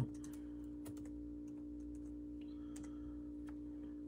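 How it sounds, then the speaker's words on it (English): Typing on a computer keyboard during a live sports card break session, with a few soft scattered key clicks over a steady low electrical hum; no talking. "Let me type this out."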